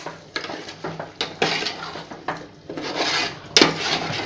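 A biryani mixture being stirred in a pot, with repeated scraping and clinking of a spoon against the metal pot in an uneven rhythm, close and fairly loud.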